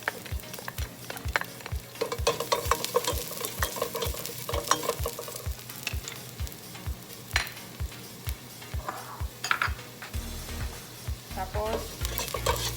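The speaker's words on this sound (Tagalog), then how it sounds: "Ang gagawin natin, igisa na tayo ng bawang at saka sibuyas." Garlic and onion sautéing in a pan for Kapampangan pork menudo, a steady oil sizzle with a spatula scraping and stirring in a regular rhythm, close and clear with no talking.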